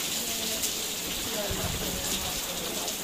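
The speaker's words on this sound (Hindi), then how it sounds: "बर्फबारी होना भी स्टार्ट हो चुकी है और तेज बारिश।" Heavy rain pouring down with snow also falling, a steady dense hiss throughout with a few splashier bursts and faint voices in the background.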